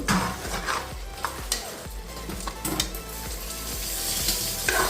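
Tomato rice fries in a pan, giving a busy, crackling sizzle. A spoon scrapes and clatters against the pan in repeated stirring strokes, close up and without speech.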